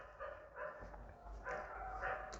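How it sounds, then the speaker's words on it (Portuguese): Dogs barking and scuffling in a fight, a steady run of yips and barks at moderate distance over continuous background noise. "Os cachorros latindo, os cachorros estão brigando."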